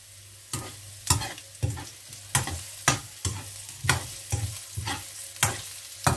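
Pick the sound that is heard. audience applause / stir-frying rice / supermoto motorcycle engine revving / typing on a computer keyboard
stir-frying rice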